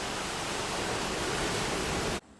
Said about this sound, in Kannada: ಅಲೆಗಳ ಅಬ್ಬರ